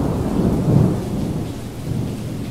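A thunderstorm rumbles with a deep roll of thunder over steady rain, loud and continuous with no voices.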